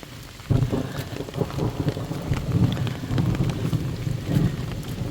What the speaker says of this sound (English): all this beautiful rain is happening